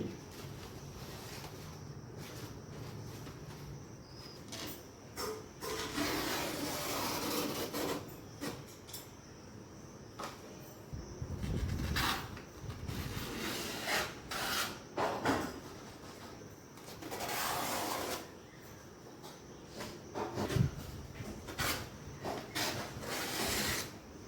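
A leaf is cut into size-matched pieces while preparing Bengali prawn paturi, giving intermittent rustling, scraping cuts and soft handling noises, quiet and close with pauses between strokes.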